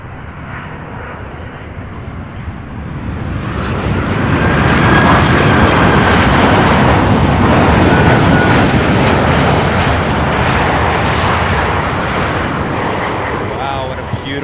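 A 23-year-old UPS MD-11 cargo jet lands at Louisville airport, its heavy engine roar swelling into a broad, loud rumble and roar that holds strongly before gradually easing off.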